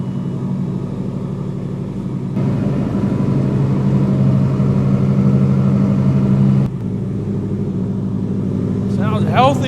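A rebuilt car engine runs for the first time, a steady loud low rumble that grows fuller after a couple of seconds and holds before settling back, with a voice briefly at the end.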